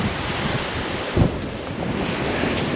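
Steady surf rolls in at Keel Beach, County Mayo, a broad wash of waves mixed with gusty wind buffeting the microphone, with no voices.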